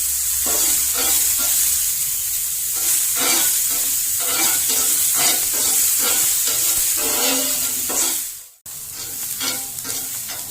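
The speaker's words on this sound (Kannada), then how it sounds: "ಈ ರೀತಿ ಚೆನ್ನಾಗಿ ಎಲ್ಲ ಈರುಳ್ಳಿನ ಇದರಲ್ಲೇನೆ ಹುರ್ಕೋಬೇಕು" Onions stir-fried on a cast iron tawa sizzle loudly and steadily, with rhythmic scraping strokes of a spatula; the frying cuts out abruptly near the end before resuming.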